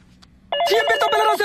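A telephone rings with a bright, steady electronic tone that starts abruptly partway through and continues loudly to the end, after a quiet room-tone opening.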